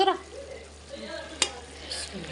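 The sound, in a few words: ingredients frying in oil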